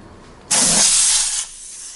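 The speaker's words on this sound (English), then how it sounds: "I'm actually gonna put my valve stem in here, my valve core. A ton of air is gonna leak out when I do this." Air bursts hissing from a Honda Ruckus scooter tire with a GY6 swap as its valve core is pushed in, a loud sudden rush lasting about a second before fading to a faint hiss.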